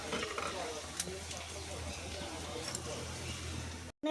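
Spices stirred into meat and oil in a pan make a faint, low sizzle with soft scraping and clicking, close but quiet, with people talking nearby.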